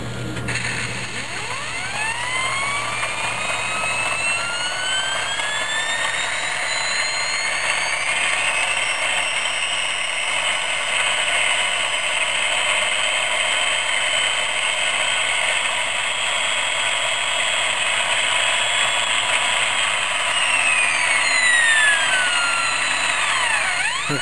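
A Wilesco T90 model steam turbine runs on its own under steam pressure, giving a steady loud mechanical whine with a whistling tone that climbs as it spins up and falls again near the end, with no talking.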